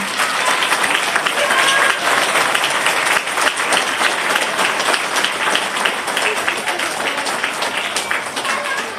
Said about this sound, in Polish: jeszcze raz wielkie, wielkie brawa